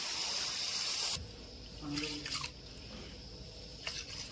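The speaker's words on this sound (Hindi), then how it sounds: "एबे चावल धोई की पकई दवा" Rice is rinsed in water before cooking at an outdoor feast, with steady splashing and trickling, a few sharper sloshes and drips, fairly faint and close, with no talk over it.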